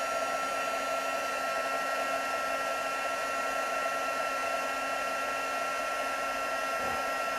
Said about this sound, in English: So we're going to use the heat tool to set it. So I'm just going to turn this on